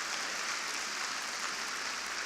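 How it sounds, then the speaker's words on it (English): Sustained audience applause fills a hall at the National Urban League address, a steady wash of many hands clapping with no talking over it. "Let's give him another big round of applause."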